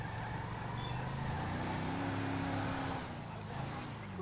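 A car driving in GTA V, a steady engine drone that rises and falls in pitch throughout, with a voice speaking over it.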